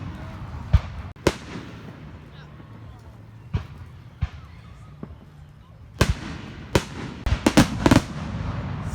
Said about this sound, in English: Such big fireworks.